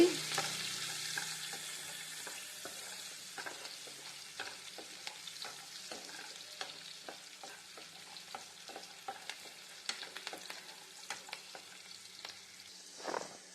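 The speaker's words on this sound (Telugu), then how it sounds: "ఇప్పుడు ఆనియన్ ముక్కల్ని వేసుకుందాం కట్ చేసిన ఆనియన్ ముక్కల్ని ఇప్పుడు ఆనియన్స్ని కొంచెం వేగనివ్వాలండి" Cut onion pieces frying with cashews in a pan for paneer masala curry, a soft continuous sizzle with frequent light clicks and scrapes of stirring, quiet and close, no talking.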